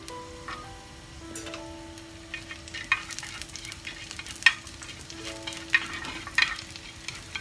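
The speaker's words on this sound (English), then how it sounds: "Just stir fry." Garlic stir-fried in oil in a pan, a low steady sizzle broken by sharp clicks and scrapes of the spatula at irregular intervals, close and moderately loud with no talking.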